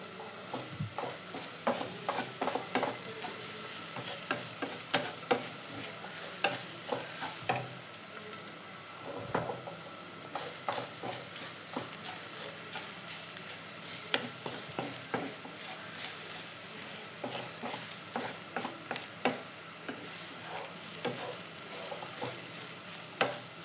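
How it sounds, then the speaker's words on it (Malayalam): Grated coconut fries and sizzles in oil while a spoon scrapes and stirs it steadily, a continuous crackle with frequent clicking strokes against the pan, close and fairly loud with no talk. "തേങ്ങയ്ക്കകത്ത് എണ്ണ ഉണ്ടെങ്കിൽ എണ്ണ ഒഴിച്ച് വേണം വറുക്കാൻ"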